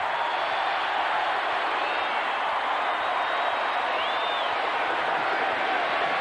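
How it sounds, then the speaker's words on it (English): A large stadium crowd of Florida Gators fans cheering at a 1990 Florida vs Tennessee college football game, a steady, continuous roar of distant voices with whistles rising over it, under a commentator's talk. "That's a little gator cheer right there, and they're giving it right to him."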